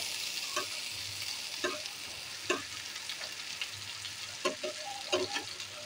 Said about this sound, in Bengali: এদিকে আলু ভাজা আর বেগুন ভাজাগুলোকে একটু উল্টে দিব